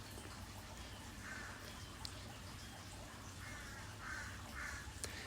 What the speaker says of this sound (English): Now you might hear the crows in the background.